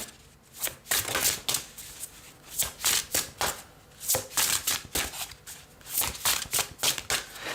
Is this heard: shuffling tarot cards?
yes